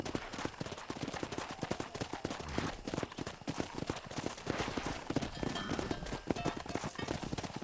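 Rapid, steady hoofbeats of a galloping horse in Red Dead Redemption pound on without pause, close and loud.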